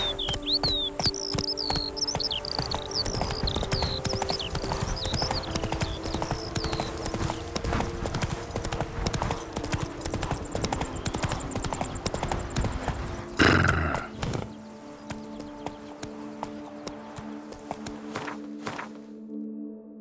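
Roach, a horse in The Witcher 3 video game, trots with steady, close clip-clop hoofbeats, birds chirp throughout, and a brief louder thump interrupts near the end before the hooves continue more quietly.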